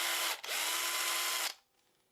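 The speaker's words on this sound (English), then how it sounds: "I'm going to drill a hole for the hinge eye" Power drill boring a hole into a wooden snake-shaped fishing lure, a steady high whine lasting about a second and a half with a brief dip early on, then winding down.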